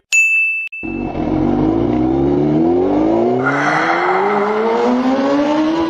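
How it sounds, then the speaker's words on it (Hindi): A Honda motorbike engine starts with a sharp metallic ding, then revs steadily and climbs in pitch as the bike rides off, loud and close throughout with no talking. "मैं होंडा निकाल कर लाता हूँ, जल्दी पहुँच जाएंगे।"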